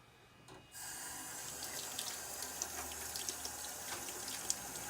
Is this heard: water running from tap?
yes